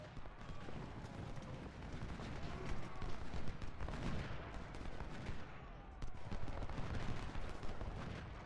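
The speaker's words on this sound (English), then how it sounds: "Burton just took a nice volley there." Rolling musket volleys and scattered gunfire from a Civil War battle in Ultimate General: Civil War, dense and continuous over the whole stretch with repeated sharper bursts.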